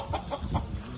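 A rooster clucks several times in quick succession, short throaty bursts close by and fairly loud, with no voices over them.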